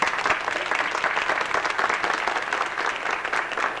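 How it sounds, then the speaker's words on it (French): An audience at a Canadian-style community evening in Sainte-Monique breaks into sustained, lively applause, thick and continuous with individual claps popping through the crowd noise. "On les félicite et on les applaudit."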